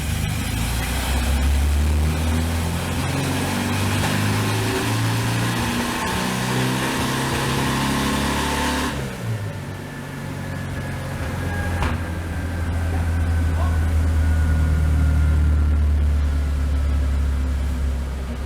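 Air-cooled Volkswagen Fusca (Beetle) engine running after an injection timing adjustment, a loud steady idle with a low throbbing rumble that shifts tone midway and then settles into an even drone.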